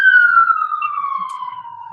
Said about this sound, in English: as you can probably hear the siren going off here in New York City